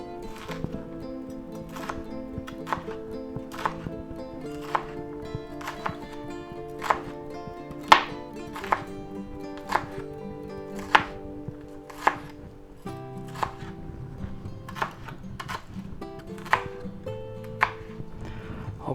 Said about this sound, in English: we'll go ahead and chop these up